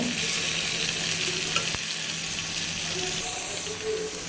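Tomato curry with turmeric and chilli sizzles in a pan, a dense, even frying hiss heard up close with a brief clink partway through and no talking.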